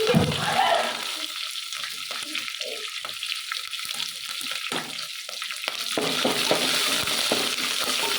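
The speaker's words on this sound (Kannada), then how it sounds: "ಈಗ ಚೆನ್ನಾಗಿ ಫ್ರೈ ಮಾಡ್ಕೊಳ್ಳೋಣ." Curry leaves and green chillies frying in hot oil for a spiced corn seasoning, a steady broadband sizzle with brief crackles and a stirring scrape, rising a little louder toward the end.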